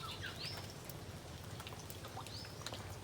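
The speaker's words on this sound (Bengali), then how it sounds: "আমি এখন বেরোবো কিন্তু বৃষ্টি এখনও পড়ছে" Faint, steady rain patters softly from a distance, with a couple of thin bird chirps rising above it.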